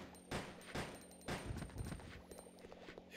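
Gunfire in the Resident Evil Code Veronica X video game, several distinct shots in quick succession with a ringing tail over a steady game backdrop, close and moderately loud.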